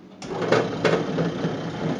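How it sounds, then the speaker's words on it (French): A machine tumbles freshly boiled almonds to loosen their skins for peeling, giving a steady, close rattling whir with a couple of brief louder surges and no voices. "On met les amandes bouillantes dedans. Les amandes sont secouées."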